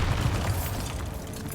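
A Bombarda spell explosion in Hogwarts Legacy, a short, loud, deep boom with a rumbling tail.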